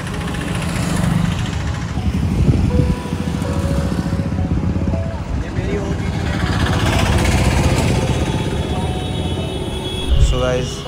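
A rented Bajaj Avenger motorcycle engine runs steadily near Rishikesh, a close, continuous rumbling drone with a slight rise in revs midway and wind noise throughout.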